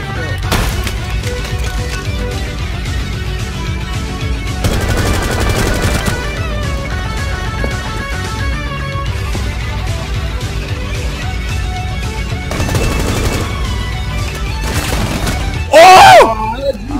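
Automatic and single gunfire from a Rainbow Six Siege match, bursts of rapid shots recurring through the clip with loud, sharp reports and a brief louder blast near the end, mixed with game ambience.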